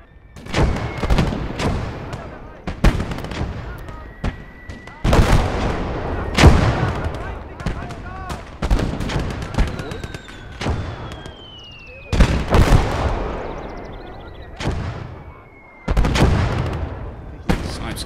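Heavy artillery booms and sharp gunshots ring out repeatedly in the World War II strategy game Call to Arms: Gates of Hell, each blast loud and decaying, with someone talking between explosions.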